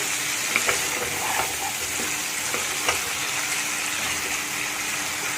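Chickpea curry gravy sizzles steadily in oil in a pan, a dense close frying hiss with small pops and occasional stirring, no talking.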